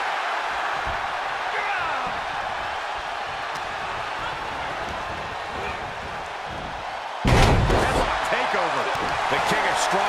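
Face-slam impacts in a WWE 2K23 Extreme Rules match, Cody Rhodes vs Shinsuke Nakamura: a steady arena crowd bed with commentary, then one heavy, loud slam thud near the end.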